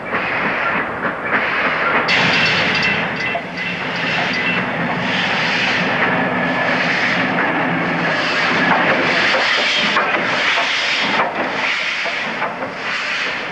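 The steam locomotive Pendennis Castle, running light engine, chuffs and hisses steadily with rhythmic rail clatter crossing the Fremantle Bridge, fairly loud and continuous as it rolls along the track.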